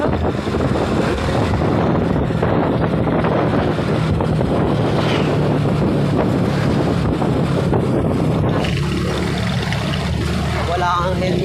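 Steady wind buffets the microphone while riding a motorcycle or scooter outdoors, a loud continuous rush and rumble throughout, with faint voices partly under it.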